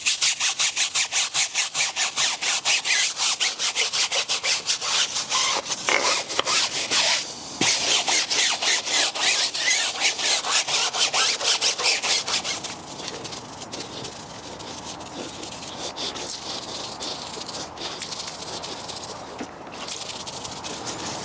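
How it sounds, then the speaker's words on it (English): A brush scrubs wheel cleaner over corroded car wheels and tyres on a BMW in fast, rhythmic rasping strokes, close and loud, easing into a slightly softer scrubbing toward the end with no talk. "Now let's get to scrubbing."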